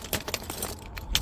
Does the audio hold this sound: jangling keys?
yes